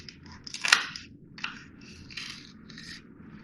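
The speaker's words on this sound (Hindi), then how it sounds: "इसको कट करके दिखाती हूँ और देखिए कितना क्रिस्पी है, आप आवाज़ सुन सकते हैं इसकी।" Knife cutting through a crispy fried bread chicken patty, with a sharp crunch followed by several smaller crackling crunches, close and quiet with no talking.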